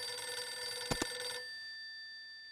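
Retro black rotary dial telephone in the Hayarigami Revenge video game ringing with a bright metallic bell, a short rattling double burst over a sustained tone that then cuts off.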